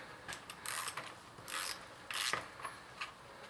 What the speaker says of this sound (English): So now we tighten the locks in.